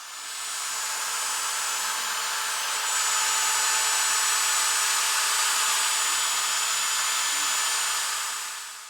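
A corded electric drill whines at a steady high pitch, grinding continuously through a snapped wheel bearing bolt on a Dodge Charger for several seconds, fairly faint with no voices.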